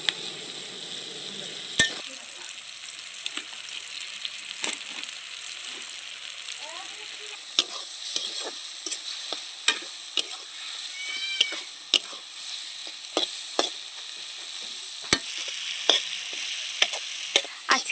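Carrots, tomatoes and other vegetables sizzle steadily in a salted pan for egg chowmein at home. Sharp clinks and scrapes of stirring break through the frying at irregular intervals.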